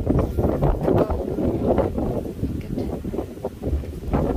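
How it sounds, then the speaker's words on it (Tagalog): Wind buffets the microphone in heavy, rumbling gusts throughout on a cold day of about 14 degrees, low and blustery, with no other clear sounds. "Medyo mahangin ngayon guys"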